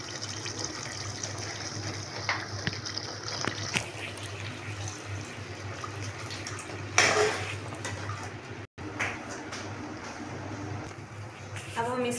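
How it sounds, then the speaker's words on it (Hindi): Water splashes and pours into a pot of korma cooking in oil, a gushing, sizzling flow with clinks of a pot, under faint background noise. "अब हम इसके अंदर थोड़ा सा पानी डालेंगे ताकि हमारा कोरमा तैयार हो जाए।"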